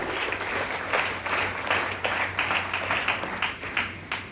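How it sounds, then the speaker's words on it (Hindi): Audience applause at a Safe Shop diamond business motivational event, a steady wash of many hands clapping with faint rhythmic surges, fairly loud and continuous with no voices over it. "पहले तो उसके लिए जोरदार तालियां, जो आज लेकर के आया है।"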